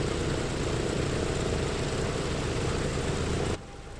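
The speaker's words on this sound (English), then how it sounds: "Okay, so engine 3 is fired." A Douglas DC-6 piston engine in a flight simulator roars with a dense, rumbling drone that cuts off abruptly near the end, leaving a quieter hum.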